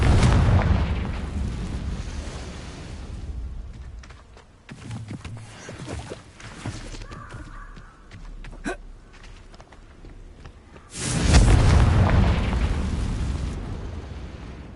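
Confringo fire spell explosions in the video game Hogwarts Legacy: a loud booming blast opens, quieter rumbling and small pops follow, then a second big explosive burst erupts near the end.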